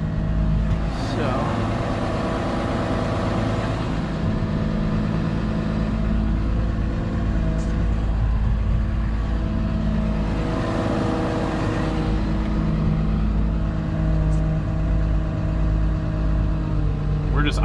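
A Cat 938 wheel loader's diesel engine idles steadily and loudly nearby as the machine is loaded onto a trailer, a continuous low rumble with a person talking over it.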